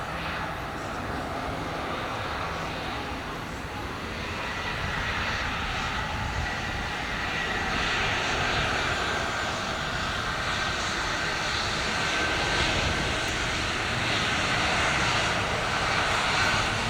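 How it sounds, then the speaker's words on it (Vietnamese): An airliner lands on runway 25R at Tan Son Nhat airport, its engines a loud, sustained roar that swells gradually as it comes in. "Còn bây giờ chiếc máy bay đang nhanh chóng hạ cánh xuống đường băng 25 phải,"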